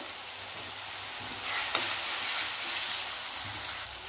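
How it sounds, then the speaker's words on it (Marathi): Tomatoes and curry leaves fry in a pan as a steady sizzle runs throughout, swelling a little louder partway in, with a sharp pop or crackle midway. Nobody speaks. "टोमॅटो मऊ होईपर्यंत आपल्याला छान भाजून घ्यायचं आहे। 7-8 कढीपत्त्याची पाने टाकूया।"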